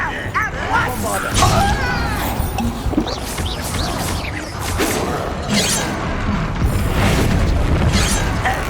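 In Hogwarts Legacy, a Bombarda spell bursts with heavy booms and crashes amid a chaotic magical fight. Several loud impacts land over the clip, mixed with shouted voices and other spell effects.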